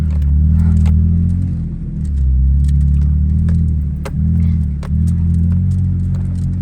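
A 3rd-gen Toyota Tacoma pickup crawls off-road on Bald Mountain with a steady, loud low engine rumble that dips briefly at intervals as throttle eases, with faint jangling and clunks from the cab.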